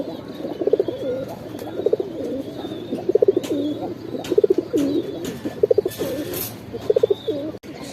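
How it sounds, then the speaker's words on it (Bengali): A pair of Shahjahanpuri pigeons cooing nearby, with repeated soft rolling coos every second or so and a faint rustle and brief flutter near the end. "এগুলা হইতাছে এক জোড়া আনকমন কবুতর"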